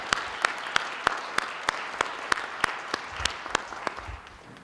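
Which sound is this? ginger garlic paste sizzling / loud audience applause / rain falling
loud audience applause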